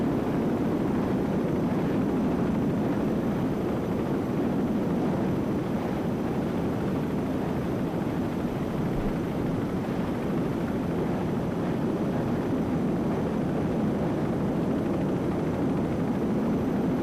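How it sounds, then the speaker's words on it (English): A helicopter flies over an offshore powerboat race near Destin, Florida, producing a loud, unbroken low rotor and engine roar that holds steady throughout with no talk. "Looking out the back of our Provine helicopter, pilot Coit Bailey doing a great job helping us capture all this action for you"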